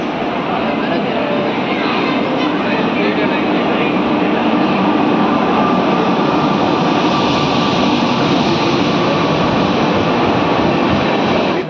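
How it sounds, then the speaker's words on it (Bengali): Howrah Dhanbad Coalfield Superfast Express arriving at a platform at Durgapur station: a loud, continuous roar of the passing train, steady throughout, with voices faintly mixed in. "আসছে আমাদের train 1-2-3-3-9 Howrah Dhanbad coalfield superfast express."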